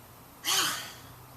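A single deep breath from a group breathing exercise in an outdoor yoga class in Winterville, a soft, breathy rush that swells and fades over about half a second against a quiet background.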